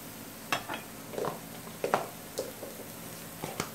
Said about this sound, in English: is hot, go ahead and hit it with some olive oil and spread that around. Go ahead and throw your onions on there.